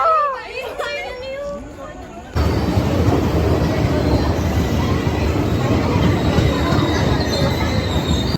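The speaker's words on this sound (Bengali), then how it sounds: "So guys, our train is coming." A train arrives at a station as a loud, steady rumble of wheels on rails swells in and holds, with a thin metallic squeal above it; children's chatter and voices come first and carry on faintly beneath.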